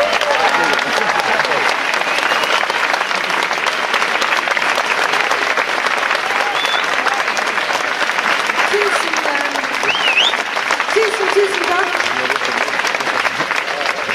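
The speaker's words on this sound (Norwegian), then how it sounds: "Kan vi få en stor og deilig og verdig applaus for vår statsminister Erna Solberg?" Sustained, dense applause for Norwegian prime minister Erna Solberg at an outdoor garden concert, a large crowd clapping loudly and evenly throughout with faint cheers mixed in.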